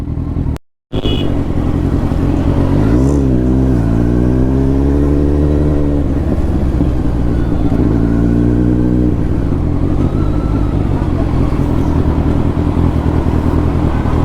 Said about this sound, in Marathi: डबल एक्झॉस्ट बाईक आहे